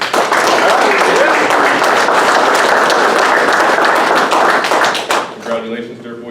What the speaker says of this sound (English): Let's give another round of applause to our newest Dirt Boys.